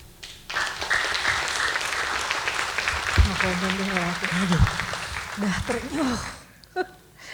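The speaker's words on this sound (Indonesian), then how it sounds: "tepuk tangan sekali lagi yang meriah buat Pak Haji Deddy Miswar" Steady applause from an audience after a poetry reading at an arts evening in Taman Ismail Marzuki fills most of the stretch, with a voice speaking and tonal sounds over it before the clapping fades out.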